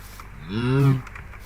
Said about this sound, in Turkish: Ay inek.